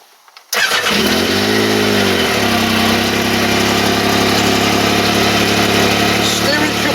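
A Yamaha YXZ side-by-side engine cranks and catches instantly, then settles into a steady, loud idle that runs on without pause.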